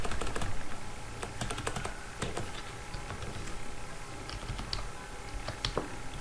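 Quick, irregular keystrokes clatter on a computer keyboard while entering text for HTML web design, the clicks sounding close and continuous with brief pauses over a soft background hiss.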